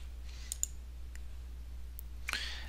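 Faint, crisp computer mouse clicks sound in a quiet room over a steady low hum: a quick pair, then a single soft click, then a final pair.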